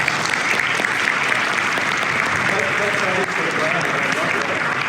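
A seated audience at a university speaker-series event gives a steady, dense round of applause lasting the full stretch, loud and close with no talk over it.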